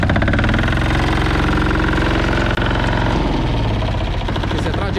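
A Goldoni Joker 8DS two-wheel tractor, a walk-behind cultivator started by pull cord, runs with a loud, close, rapid mechanical chugging, with one brief dropout midway before the idle continues.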